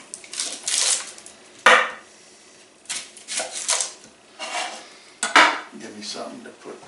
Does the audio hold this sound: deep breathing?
no